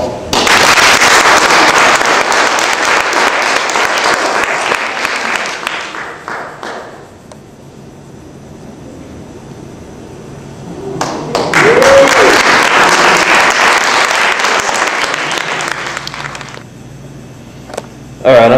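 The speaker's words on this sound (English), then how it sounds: "Give her a round of applause." Audience applause for a female magician's stage act, loud and dense with scattered whistles, fading after about six seconds, then a second strong burst that swells again and tapers off near the end.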